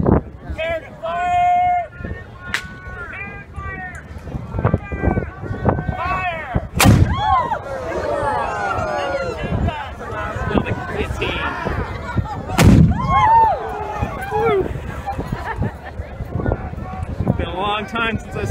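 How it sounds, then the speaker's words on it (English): A historic cannon fires at a Privateer Days reenactment in Liverpool, Nova Scotia, with two loud, sharp blasts roughly six seconds apart. Voices shout and talk outdoors between the shots. "Number one, gun! Prepare to fire!"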